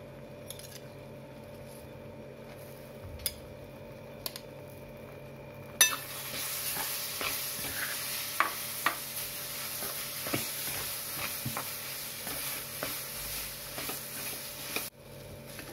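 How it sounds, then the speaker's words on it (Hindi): Boiled moong dal being added to roasted besan in a pan, followed by a steady sizzle with repeated scraping and stirring strokes that continue to the end with no talking. "अब इसमें हमारी मूंग की दाल डालेंगे उबली हुई।"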